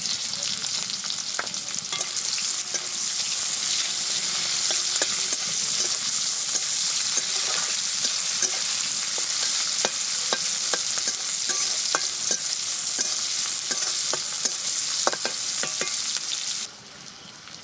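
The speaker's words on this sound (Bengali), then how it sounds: "এবার দিয়ে দিচ্ছি পেঁয়াজ কুচি।" Chopped onions fry in a hot pan after garlic and green chillies for a breakfast dish, giving a loud, even sizzle with scattered clicks of stirring that drops off abruptly near the end.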